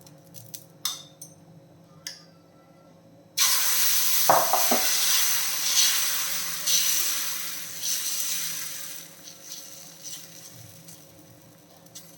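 Moong dal and ragi dosa batter hits a hot, lightly oiled griddle with a sudden loud sizzle after a few soft clinks of utensils, then keeps frying in a steady hiss that slowly softens, with occasional scraping.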